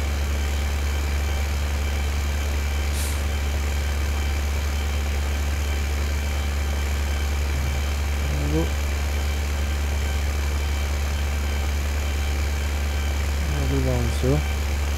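A tractor engine idles in Farming Simulator 2015 as a constant low, droning hum throughout, with a brief faint voice-like sound near the end.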